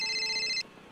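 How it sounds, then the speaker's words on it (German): A telephone rings with a steady electronic tone close to the mic. The tone stops abruptly partway through, and a quiet room remains. "Warte, es klingelt nochmal."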